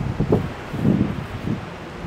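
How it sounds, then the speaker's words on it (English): Wind gusting across an open, forested mountaintop along Tray Mountain Road in Georgia's Chattahoochee-Oconee National Forest, a low rumbling buffet with rustling surges that swell and fade, buffeting the microphone with no talk. "Man, it is windy."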